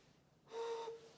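A handmade clay ocarina gives a single short, breathy whistle, a soft airy tone lasting under half a second, faint and alone after a quiet moment.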